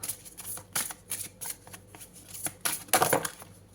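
Tarot cards are shuffled by hand in a quick series of crisp riffling bursts and soft slaps, close and fairly quiet, with no talking.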